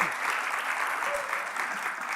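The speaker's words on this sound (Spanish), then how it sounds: "démosle un aplauso al Señor" A church congregation claps for the Lord during a sermon, a dense, steady wash of applause from many hands that fills the whole moment without letting up.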